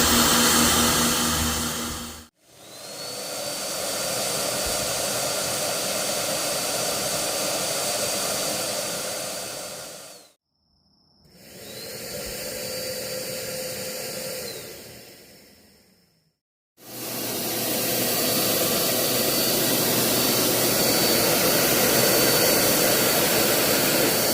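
A 1500W RGB stage snow machine gives a loud, steady mechanical roar with a high whine, running continuously, cutting off briefly twice and restarting, close by.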